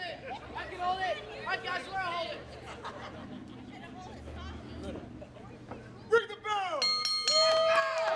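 A wrestling ring bell clangs several times in quick succession to start a match at a live wrestling event, ringing out sharply over crowd chatter and commentators talking throughout.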